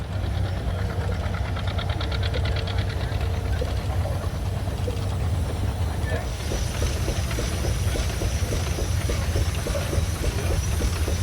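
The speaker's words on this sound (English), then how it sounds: "I think I'm gonna get a ride on a steam engine." Steam traction engine running at a farm show, a steady loud rumble and hiss with rapid rhythmic chuffing beats growing clearer in the second half, close by and continuous with no talk.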